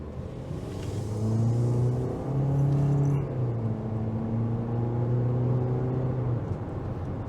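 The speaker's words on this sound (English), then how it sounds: "Not sure if you heard, but the engine started being a little bit loud" A 2022 Toyota C-HR engine with CVT revs in sport mode and holds a steady, rising drone with rumbling harmonics, loud and close, with no voices.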